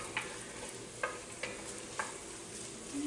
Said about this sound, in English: So let's give that a good stir, make sure the onions are coated nice and evenly with that butter.